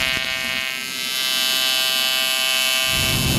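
Welding a drain fitting onto a race car part for an S2000, producing a steady electric buzz and hum, loud and continuous, with a brief dip near the start.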